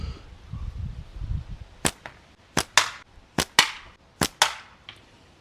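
A WASP Trigrip slingshot firing, about eight sharp snapping releases at close range, some in quick pairs with brief rattling tails, following a stretch of low rustling handling noise.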